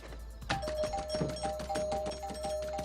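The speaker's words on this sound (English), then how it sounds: "ringing our doorbell like that in the middle of the night" A doorbell rings over and over in quick succession, bright tonal chimes repeating rapidly with a steady hum underneath.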